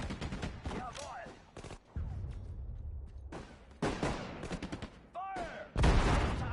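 Gunfire in a WWII video game, repeated heavy shots and explosive blasts in irregular bursts, loud and close, with shouted voices in between.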